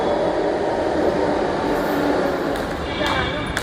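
A Bangalore metro train arriving at a station gives a steady, loud rumbling roar, with a faint higher whine and brief clacks toward the end. Voices may be faintly present beneath the noise.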